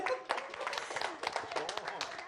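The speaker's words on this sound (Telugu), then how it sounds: "ఒక్కసారి గట్టిగా చప్పట్లు" Audience applause and clapping at the end of a speech at a Telugu film event for the movie Athidi, with dense overlapping claps and voices mixed in throughout.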